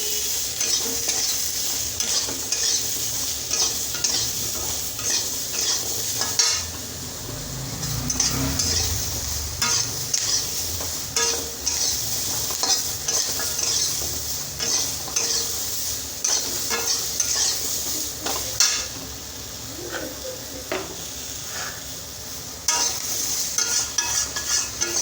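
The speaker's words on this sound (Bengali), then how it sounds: "এটাকে ভালো করে ভেজে নেব" Food sizzles in a hot pan with a little salt and turmeric as a spoon stirs and scrapes it around, steady frying hiss with intermittent scraping and knocks against the pan, no voices.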